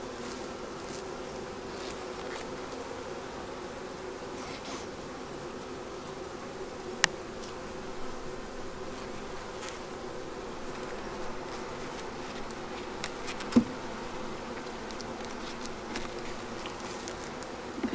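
Honey bees drone steadily around an opened beehive during a spring inspection, a dense continuous buzz close by with a few faint clicks and knocks, no talking.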